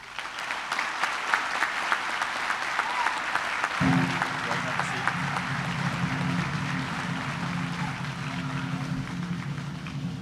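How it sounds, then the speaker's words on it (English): A high school commencement crowd applauds steadily, broad continuous clapping from a large audience; partway through a low sustained tone, likely music or a microphone hum, joins underneath. "Please join me in a round of applause for all the people that not only made this year possible, but made it one of the most successful."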